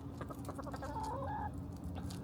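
Backyard chickens and a rooster cluck at morning feeding time, a quick string of close, soft clucks followed by a brief tonal call, over a low ambient hum.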